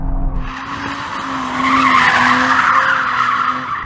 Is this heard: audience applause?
no